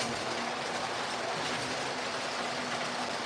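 An O gauge model passenger train runs on a layout, a steady rolling rumble and clatter of wheels on track that holds evenly throughout with no voices.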